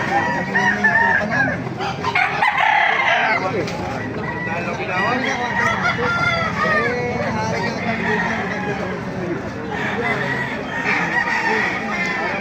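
Gamefowl roosters, including hiraw and white kelso birds at a market, crow loudly and repeatedly with clucking between calls, while people talk continuously alongside in a busy setting.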